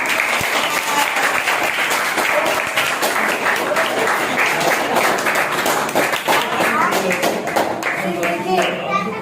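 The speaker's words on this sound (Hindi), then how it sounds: "ताली बजाइए।" Audience applause at a prize-giving during an Independence Day celebration, loud sustained clapping from many hands filling the whole stretch, with voices faintly mixed in.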